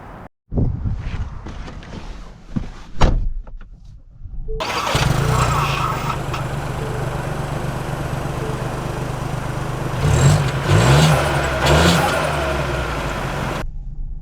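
A 2024 Ford Bronco Sport with the black appearance package starts up after a few short clicks and knocks, then its engine settles into a steady close hum with wind noise, swelling slightly as it pulls away.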